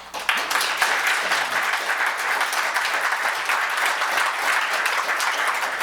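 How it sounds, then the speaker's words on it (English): Steady, dense applause from a full audience at a pro-life awards ceremony, a continuous wash of many hands clapping at an even, fairly loud level throughout, with no voices over it. "please give him a great round of applause."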